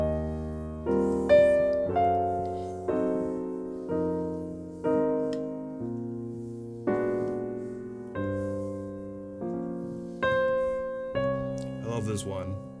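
Two-handed jazz piano chord voicings ring out one after another, lush full chords struck in a slow, even sequence and each left to sustain, close and clear with no talking.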